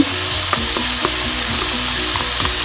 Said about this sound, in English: quickly stir fry that onion. Add that onion in very quickly, and we're working at a very high temperature